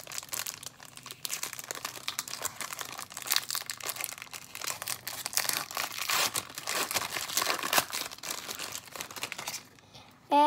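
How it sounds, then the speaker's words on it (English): A foil wrapper on a pack of Upper Deck Black Diamond hockey trading cards crinkles and tears as it is opened, a close, busy stream of rustling and crackling for about ten seconds. "And now we're gonna open the exquisite card."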